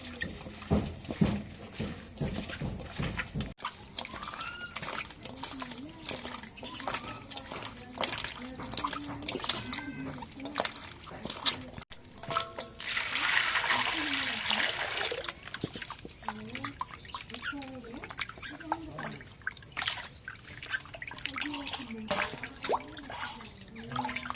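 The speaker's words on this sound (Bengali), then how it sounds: "লবণ দিয়ে মাছগুলো ধুয়ে নেই" Fish are rubbed and rinsed with salt in a basin of water, with trickling, sloshing and dripping splashes throughout, under voices murmuring in the background.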